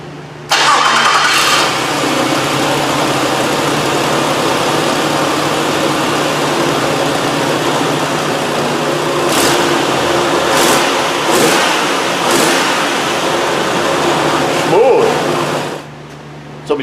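A Nissan Frontier pickup engine, just repaired after a misfire, cranks and catches, then settles into a loud, steady idle with a few small rev changes and some faint clicks over it.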